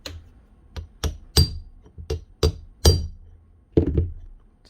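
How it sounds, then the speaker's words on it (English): Sharp metallic taps on a bearing in a Makita power tool, about a dozen irregularly spaced knocks, close and fairly loud, some in quick pairs, with nothing else heard. "Tappy tap tap."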